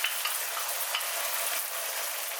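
Eggs fry in a pan of oil and soy sauce with a bright, steady sizzle. A wooden spoon stirs through them with faint scraping ticks. The sound is close, continuous and has no speech.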